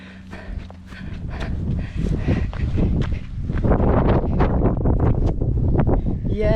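Strong wind gusting on a hilltop, a loud continuous roar buffeting the microphone that grows heavier over the clip, with a few brief background sounds.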